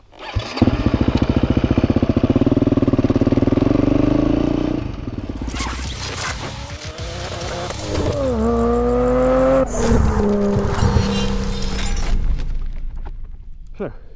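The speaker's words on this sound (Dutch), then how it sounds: "Dit is de motor. Het is een Husqvarna FE250," A Husqvarna FE 250 enduro motorcycle engine idles, then revs hard and rises in pitch through gear changes while riding offroad, loud and close, with harsh mechanical rattling.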